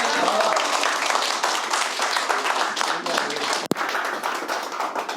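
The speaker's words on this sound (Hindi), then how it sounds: "एक बार जोरदार तालियां" An audience at a Hindi poetry gathering breaks into loud, sustained applause after a poem by Kavi Ritesh, dense clapping filling the room, with a brief sharp knock partway through.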